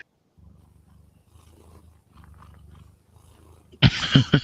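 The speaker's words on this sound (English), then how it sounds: "Cat noises." A cat makes a short, loud growling yowl at the very end, after several seconds of faint low murmuring in the background.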